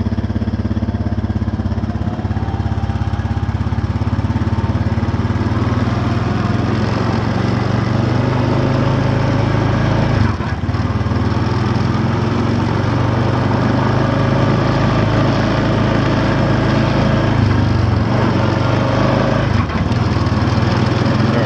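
A 2014 Honda Foreman 500 4x4 ATV engine drones loudly and steadily while riding outdoors, with a constant mid-pitched motor hum and a few brief shifts in load.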